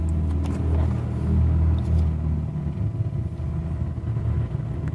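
A motorcycle engine idles with noticeable vibration after a cheap CDI unit was fitted, giving a steady, close, low rumble with a slightly uneven throb and no voices.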